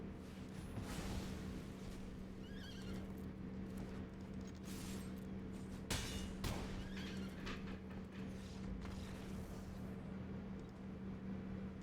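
Horse neighs and whinnies from MTG Arena, an online card game, heard faintly over a steady droning background, with a brief clatter near the middle and no talking.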